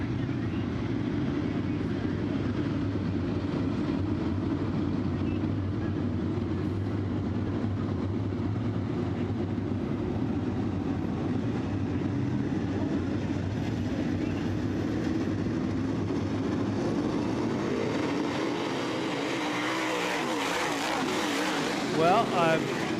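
Modified race cars on a dirt oval rumble steadily as they line up to restart, making a continuous loud engine drone that swells near the end, with a voice talking over it.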